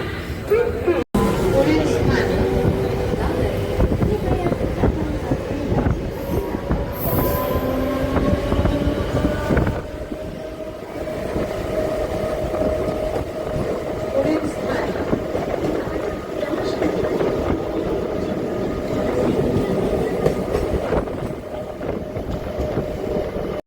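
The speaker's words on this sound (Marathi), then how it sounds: "आता ट्रेन लवकर येते मग आता घाई म्हणजे पकडायला लागेल" A local train rumbles and clatters loudly into a station, with metallic screeching and steady wheel noise throughout, and people talking nearby.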